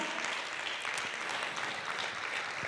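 An audience applauds during a church sermon about sitting at the table with King Jesus, a steady, dense wash of clapping held at even loudness throughout, with no voices over it.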